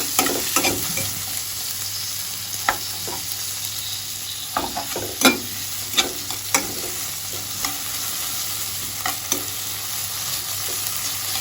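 Tomatoes frying in a pan as a spatula stirs them, a soft steady sizzle broken by irregular scraping knocks and clinks, close and clear, with no voices.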